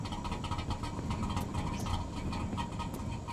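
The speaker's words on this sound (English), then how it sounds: "Probably should have turned the engine off." A car engine in The Long Drive idles on steadily, a low continuous rumble with a faint mechanical rattle, fairly quiet and alone.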